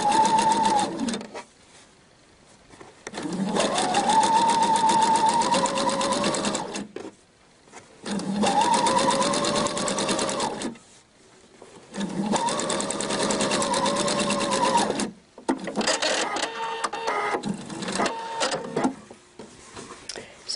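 A Pfaff sewing machine stitches piping onto fabric in several loud, steady runs of rapid needle chatter, separated by brief pauses and ending in slower, uneven stitching.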